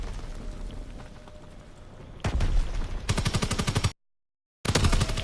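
Gunfire in a World War 2 video game, loud rapid bursts of automatic fire that grow denser and harsher, cut off by a brief silence before another burst resumes.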